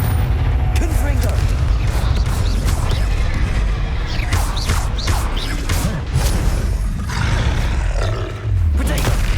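Confringo blasting spell in Hogwarts Legacy, repeated fiery explosions and crashing bursts amid roaring, grunting battle noise, loud and close throughout.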